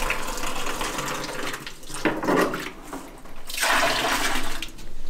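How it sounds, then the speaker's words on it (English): A toilet flushes at a desert camp in the Sahara, a loud rushing of water that swells and fades in waves over about five seconds, with no talking. "The toilet, how does it flush though?"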